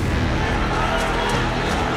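Crowd noise on a street in front of a mosque with police nearby, a dense continuous rumble of many voices, loud and unbroken throughout.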